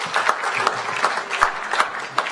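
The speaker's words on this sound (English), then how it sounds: "give yourself a round of applause" A short burst of applause from a crowd, brisk overlapping claps at steady volume.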